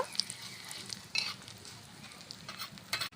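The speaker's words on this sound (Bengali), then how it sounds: "এবার আমি তেলের মধ্যে দিয়ে দেবো গোটা জিরে ফোড়ন গোটা পোস্ত তেজপাতা আর শুকনো লঙ্কা মশলাগুলোকে হালকা আছে ভেজে নেব" Whole cumin, poppy seeds, bay leaf and dry chillies frying in oil crackle faintly, with scattered pops and a few sharper spatula clinks against the pan.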